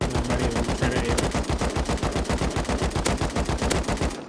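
An AK rifle fires in the Rust video game: rapid, loud, evenly spaced automatic shots in one sustained burst lasting about four seconds, then stopping abruptly.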